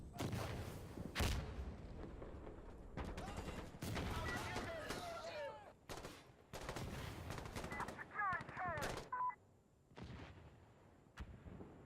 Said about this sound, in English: I shot that man's leg and he died.